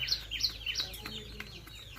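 Chicken chicks peep in a quick run of high chirps, a few clear calls near the start, then fainter tweets over low background noise.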